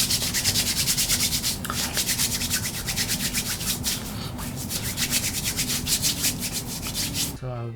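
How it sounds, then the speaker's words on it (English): Fingers rubbing a product onto hands make a close, rhythmic dry swishing with rapid strokes throughout, ending abruptly, no talking. "So I'll be using my fingers to rub this and then just put it on the outer edge."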